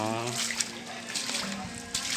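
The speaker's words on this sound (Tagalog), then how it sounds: "yung ilog na umapaw na talaga yung tubig papunta rito" A river overflowing its banks after a typhoon in Montalban, Rizal, its water rushing and splashing steadily close by while a person talks over it.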